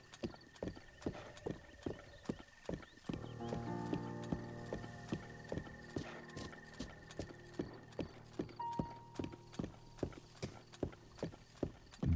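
Big blue horse in Breath of the Wild trots through a gully, hooves clip-clopping in a steady, even rhythm from start to finish, crisp and close, with a faint hum of background music beneath.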